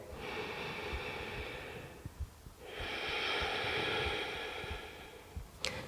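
Slow, deep breathing held during a seated spinal twist in a yoga flow: two long, audible breaths in and out through the nose, steady and close, with no talking.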